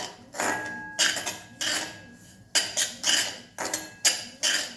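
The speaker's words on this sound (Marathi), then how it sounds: "छान ढवळत राहायचे खालीवर करून व्यवस्थित असा भाजून घ्यायचा आहे रवा आपल्याला" Semolina roasting in a pan, stirred with a spoon: repeated scraping, clinking strokes against the metal in a steady rhythm, close and fairly loud, with no talk.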